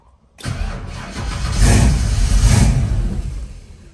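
A Ford Mustang GT500 Eleanor cold-starting, a short starter crank that catches into a loud, rough engine roar, swelling and then settling toward a steady idle, heard up close.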